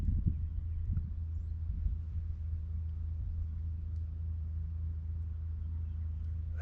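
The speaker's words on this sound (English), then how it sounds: "I can hear a truck off in the distance" Low, steady rumble of a truck driving far off in open hunting country, faint and continuous with a few soft nearby rustles.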